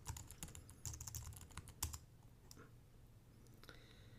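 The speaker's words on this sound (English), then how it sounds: "we're going to type in WordPress here." A computer keyboard is typed on in a quick, light run of clicking keystrokes, faint and close, over a soft background hum.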